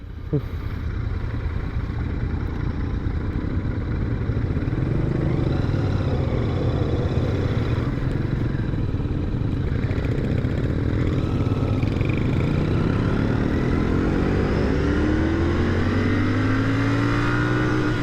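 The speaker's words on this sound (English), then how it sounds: "Second gear getting up to 60 pretty decently, but getting close to the red line again." A 2021 Royal Enfield Continental GT 650 motorcycle accelerating hard through the gears, a loud close engine rising in pitch toward the redline, shifting, then climbing again with steady wind noise.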